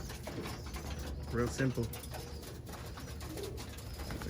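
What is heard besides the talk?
Birmingham Roller pigeons cooing at the trap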